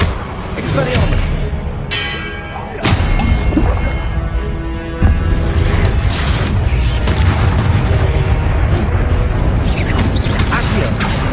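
Expelliarmus spell cast in Hogwarts Legacy combat, with sharp magical bursts and thwacking impacts over a loud, steady roar of battle effects and booms.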